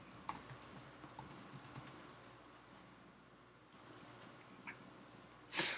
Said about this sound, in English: Not that fast at typing.